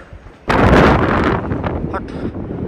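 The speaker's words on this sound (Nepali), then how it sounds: "हावा चल्दैछ एकदमै व्यापकै हावा है" Strong wind gusts loudly across the microphone at about 4200 metres near Tilicho Base Camp, Nepal, a sudden roaring buffet that keeps rushing with flapping undertones.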